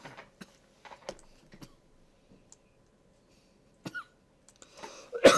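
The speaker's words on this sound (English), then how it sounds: "I'm still fighting this stupid cough." A man coughs a few times, sharp dry bursts that come close and fairly loud near the end, after a quiet stretch of faint clicks and taps.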